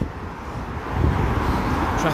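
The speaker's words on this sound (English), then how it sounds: "apologies for the traffic" Steady road traffic noise rumbles continuously beside an outdoor walk in Bearsden, Scotland, a broad low wash of passing cars with some wind buffeting on the microphone and no clear speech.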